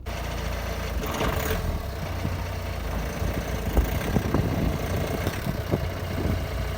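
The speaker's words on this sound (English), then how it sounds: "we're just going to warm up the engine a little bit." A BMW E91 engine idles as it warms up before an oil and filter change. The low mechanical hum is steady and moderately loud, with scattered knocks and clatter from the work nearby.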